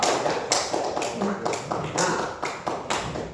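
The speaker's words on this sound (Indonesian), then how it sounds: "tepuk tangan buat kelompok dua" A classroom of students applauds a group of classmates, a burst of several quick rounds of clapping, fairly near and loud, with a brief spoken word at the start.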